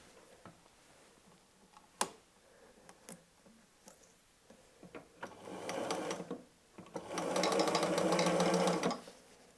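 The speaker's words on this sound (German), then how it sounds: "und wir nähen" A sewing machine stitches patchwork pieces cut from jelly roll fabric scraps, first a few scattered clicks and handling taps, then two sustained bursts of rapid whirring stitching, the second longer and louder, with no voices.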